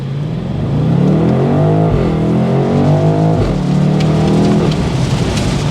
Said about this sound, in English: Taking the 2023 BMW m850i out. This is in sport mode.